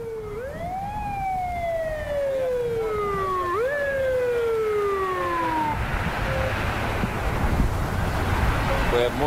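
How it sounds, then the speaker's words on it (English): Fire truck sirens in a procession, wailing up and down in long sweeping tones that rise, fall and repeat, then fade into wind noise and distant rumble as the vehicles approach outdoors. "We have more fire trucks coming in to help do traffic control."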